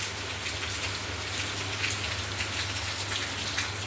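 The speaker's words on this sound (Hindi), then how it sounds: "ये देखो बारिश कितनी तकड़ी हो रही है" Heavy rain pours down in a steady, loud, continuous hiss that stays close and unbroken throughout, with no talking over it.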